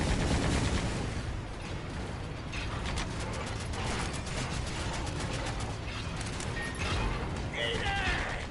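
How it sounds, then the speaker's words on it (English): Rapid mechanical bursts of machine gun fire in a video game, a dense rattling stream running steadily and loudly through the whole stretch amid other game noise. "Use the machine gun again!"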